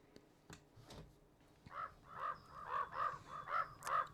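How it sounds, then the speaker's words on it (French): A crow caws in the video game Pumpkin Panic, about six harsh, evenly spaced calls rising in loudness after a few soft clicks. "c'est le même bruit que Corbeau que dans Valheim"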